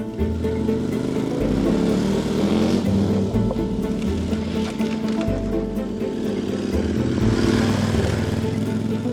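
Motorcycle riding off-road along a ridge in Corsica, its engine droning and revving continuously up and down with the gears, loud and close throughout.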